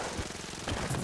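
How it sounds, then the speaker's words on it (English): A grenade launcher fires in Enter the Gungeon, giving a short, rapid burst of dense, thumping shots, fairly quiet and without talk. "Butt ton of grenades coming right up."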